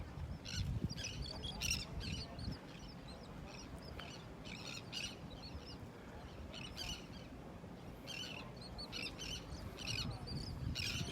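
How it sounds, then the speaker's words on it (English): Distant seagulls cry in repeated bursts over a steady outdoor rumble of wind and surf at a beach pier, the calls rising and falling across the whole stretch. "Get all the seagulls flying around out here."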